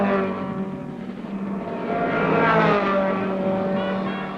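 A 1964 Ford Cortina race car at Sebring, an old airbase circuit, drones past on approach to turn one, its engine note rising and swelling loud and near before easing off, no talk.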